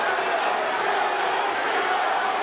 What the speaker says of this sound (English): The crowd buzzing, they sense something.